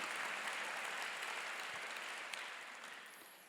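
Congregation applause at a church theological seminary graduation worship service, a steady wash of clapping that fades gradually over a few seconds.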